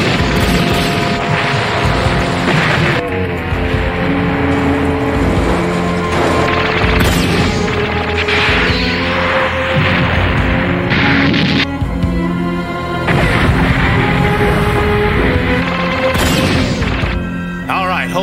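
Weapons fire and explosions roar through an anime space battle, a dense, loud, continuous barrage of booms and crashes layered over a dramatic music score, with no pauses.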